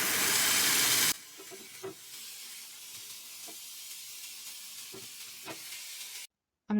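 Frozen burger patties sizzle on a preheated Ninja Foodi Grill as a soft, steady hiss with scattered faint pops and taps. A brief loud burst comes first, and the clip cuts to silence near the end.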